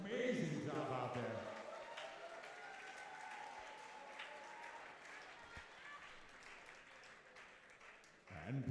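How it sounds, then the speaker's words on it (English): Audience applause for professional ballroom dance competitors at a dance championship, a dense burst of clapping that fades to a softer, steady patter over several seconds. "Nice round of applause for our competitors doing an amazing job out there."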